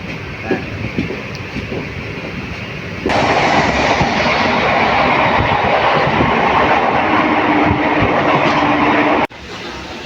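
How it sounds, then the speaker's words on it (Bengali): Local train on the Azimganj–Rampurhat line pulling out of Nalhati junction, a loud sustained roar of engine and rolling stock that surges up midway and holds close, then cuts off abruptly near the end. "এখন দেখতে পাচ্ছ নলহাটি জংশন ছেড়ে বেরিয়ে যাচ্ছে আমাদের ট্রেন"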